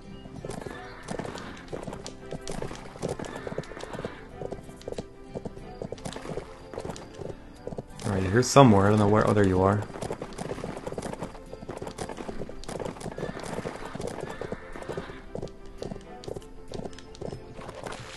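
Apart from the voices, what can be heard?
horse hooves while riding, from video game Bibi & Tina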